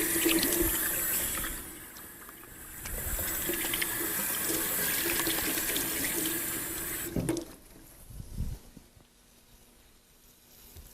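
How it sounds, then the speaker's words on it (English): Running tap water pours steadily into a sink while hands are washed under it during home cooking, a continuous close hiss that cuts off abruptly near the end, followed by a few faint drips and small handling knocks. "Give my hands a quick wash here."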